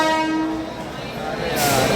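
A passenger train travelling from Nanded toward Agra runs at speed: a loud, continuous rumble with a sustained horn-like tone early on, building to a brighter rush at the end.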